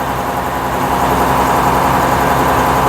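A 1956 Daimler double-decker bus with a pre-selector gearbox drives along, its engine a steady, close, loud drone with a low rumble throughout.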